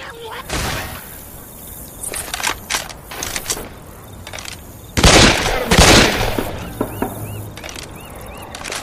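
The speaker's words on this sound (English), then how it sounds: "God damn it, stop shooting me!" Gunfire in the zombie shooter Left 4 Dead 2: bursts of automatic shots and single cracks scattered across the clip, heaviest in a dense volley midway, mixed with game effects and faint voices.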